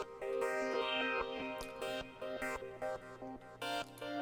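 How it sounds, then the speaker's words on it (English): A Rex loop playing back in Reason software, a rhythmic sampled music phrase with punchy percussive hits and tonal chords, chopped into repeating choppy segments toward the end, loud and clear with no talk. "But the Rex loop sounds like this."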